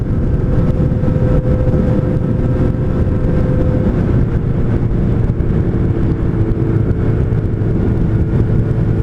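Yamaha FZ8N motorcycle engine pulling steadily under acceleration, a continuous loud drone mixed with rushing wind noise, no speech.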